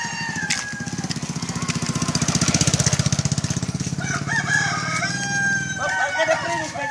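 A rooster crowing at a distance behind a loud, rhythmic pulsing engine drone, likely a lawn mower, with a voice and scattered chirps near the end.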